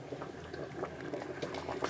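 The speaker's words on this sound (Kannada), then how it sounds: "ನೋಡಿ ಒಗ್ಗರಣೆ ಹಾಕಾಯ್ತು ಕುದೀತೈತೆ" Sambar of drumstick, potato, jackfruit seeds, green gram and toor dal, with its tempering already added, bubbles in a pot: a steady, quiet simmer of small popping bubbles with no talk.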